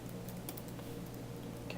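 Fingers tap steadily on a computer keyboard, a quiet, close run of soft clicks with no voices over it.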